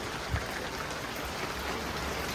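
Steady, dense hiss of rain falling continuously, with no voices over it.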